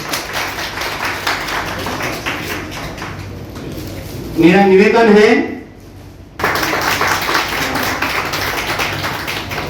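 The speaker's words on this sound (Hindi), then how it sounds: "भाई इसमें तो जरा तालियां हो जाए।" An audience at a school federation's retirement celebration applauds loudly, breaking off briefly while a voice speaks, then resuming with a thick, continuous clatter of hands.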